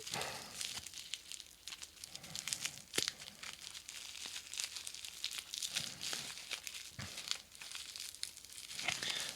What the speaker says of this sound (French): c'est tellement enveloppé. Ah, j'arrive pas à l'ouvrir.